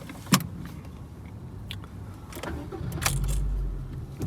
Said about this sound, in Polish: posłuchajcie jak ten silnik odpala